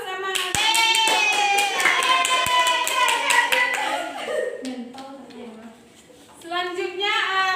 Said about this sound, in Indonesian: Dikasih aplaus sama